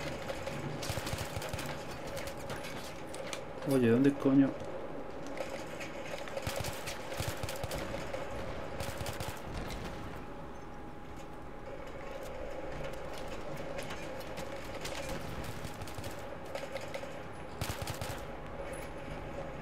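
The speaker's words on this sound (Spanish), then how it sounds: "Me ha parecido ver disparos por detrás" Gunfire in the video game Battlefield 3 on PS3, during a co-op mission, Operation Exodus: bursts of rapid shots, some distant and faint, over a steady rumbling backdrop, with a brief spoken exclamation.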